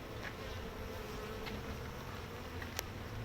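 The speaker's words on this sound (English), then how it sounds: "Oh, there's a lot of bees inside." Dense, steady hum of many honeybees inside a strong, populous hive, close and continuous with no talk.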